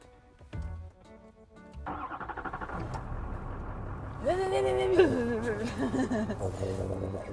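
New pickup truck engine starting with keyless push-button start: a brief crank, then the engine catching and revving up before settling into a steady idle, close and loud, with some background sounds.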